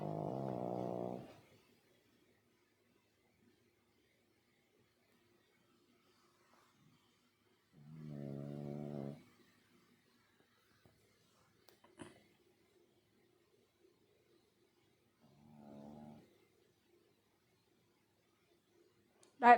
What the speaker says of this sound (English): Y'all need y'all a snoring dog.